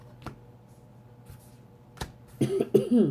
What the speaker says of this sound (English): That sage today is making me cough.